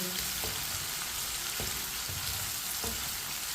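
Salted okra (bhindi) fries in a pan with a dense, continuous sizzle. Faint stirring knocks come through at intervals.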